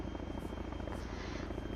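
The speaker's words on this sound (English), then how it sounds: "Which helicopter's ours?" Helicopter in the ArmA 3 video game, a steady rotor thrum and turbine whine running continuously at low level with no talk over it.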